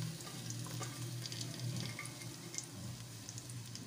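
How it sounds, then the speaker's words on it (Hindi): Onions frying in a cup of oil for a spicy bitter gourd dish give a steady, close crackling sizzle, with soft stirring scrapes and a faint trace of running water, and no talking. "वीवर्स, हमने 1 प्याली तेल में प्याज डाल दी।"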